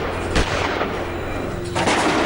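Bursts of gunfire from a militant encounter in the Poonch sector crack out at close range, a sharp volley early and another near the end, over a constant noisy rumble.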